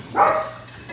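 A single yapping bark from pet dachshunds indoors near a home kitchen, one short burst standing out clearly before the room goes quiet.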